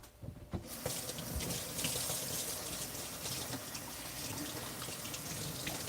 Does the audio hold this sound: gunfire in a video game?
no